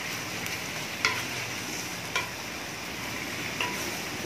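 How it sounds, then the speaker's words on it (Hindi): One kilogram of chopped onions sizzles steadily in hot oil in a pot, a close continuous frying hiss broken by three soft scrapes of stirring. "प्याज को आपने हल्का सा बस इसको सौते करना है, ब्राउन नहीं करना"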